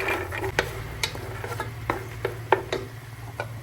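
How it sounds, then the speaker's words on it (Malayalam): Soaked green peas tipped into a rice mixture sautéing in a pan, giving a series of scattered clicks and light scraping knocks over a low steady hum and faint sizzle, with no voices. "ഗ്രീൻ പീസ്, കുതിർത്ത് വെച്ചിട്ടുള്ള ഗ്രീൻ പീസ് ചേർത്ത് കൊടുക്കുക."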